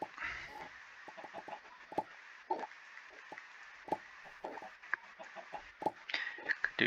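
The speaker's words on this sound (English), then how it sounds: "It's a red chicken." Chickens cluck in short, scattered bursts in the Ragnamod VII Minecraft modpack, clear and close over a quiet game backdrop, with no talking.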